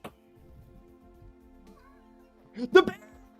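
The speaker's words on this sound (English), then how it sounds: "This is the cat screaming at me." A cat lets out a short, loud scream near the end, after a stretch of faint background sound, heard inside the game Vintage Story.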